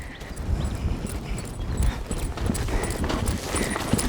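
A horse's hooves clip-clop steadily on soft ground during a riding lesson, a continuous muffled rhythm of footfalls under faint background noise.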